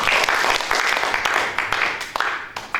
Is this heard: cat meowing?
no